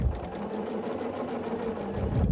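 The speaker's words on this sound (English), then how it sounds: "start sewing this together with 1/4 of an inch seam allowance" A sewing machine runs continuously at close range, stitching quilt fabric strips together with a quarter-inch seam for a tree quilt block, its rapid even needle rhythm steady throughout with no talking.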